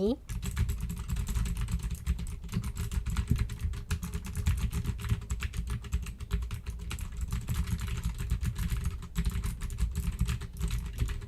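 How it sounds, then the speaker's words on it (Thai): Steady, rapid keyboard typing on the WASD keys picked up close by through a Maono PD400X dynamic microphone, dense clattering keystrokes running continuously over a low background hum. "กดปุ่มพวก WASD นะคะ เสียงที่มันเข้าเนี่ยก็จะประมาณนี้เลย"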